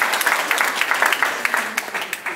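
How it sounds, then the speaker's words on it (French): An audience in a hall applauds a speaker at a real-estate fair talk: dense, steady clapping from many hands at moderate distance, with a voice briefly audible underneath. "je pense qu'on peut vous applaudir"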